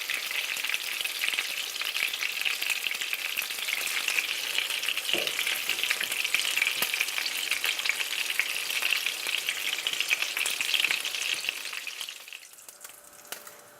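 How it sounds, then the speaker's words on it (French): Aubergines stuffed with fish fry gently in a pan over low heat, giving a steady, close sizzling crackle that carries on evenly before fading away near the end. "la cuisson est un peu longue parce qu'elles sont à feu doux, c'est pour éviter de brûler votre aubergine avant que le poisson cuise à l'intérieur"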